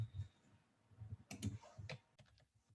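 Quick typing of digits on a computer keyboard, a short burst of close, soft clicking keystrokes in an irregular rhythm, with no one talking.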